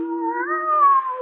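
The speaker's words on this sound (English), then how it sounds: "There's that cat again." A single cat meows in a radio drama, a clear, close, drawn-out call that rises and wavers for just over a second, alone with no talk.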